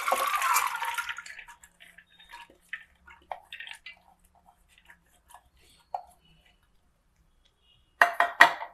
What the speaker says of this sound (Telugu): ఇప్పుడు ఇది నేను దీంట్లో పోస్తున్నానండి కుక్కర్లో.